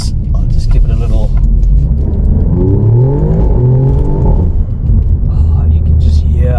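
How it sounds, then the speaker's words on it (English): An Alfa Romeo Giulia Quadrifoglio's engine rises in a loud, resonant rev, with the pitch climbing and then settling back to a deep rumble heard from inside the car, and a voice talking over parts of it. "You can just hear resonance from that car."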